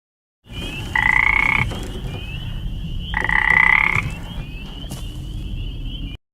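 Frogs croak in a forest at night in the film Never Let Go, with two sustained, loud trilling calls a couple of seconds apart over a steady buzz of insects and woodland ambience.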